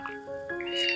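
A single abandoned baby kitten gives one high, rising meow, close and clear, found with its four littermates on a mountainside.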